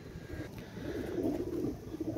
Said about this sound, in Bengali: দেখেন টপ কোয়ালিটির কবুতর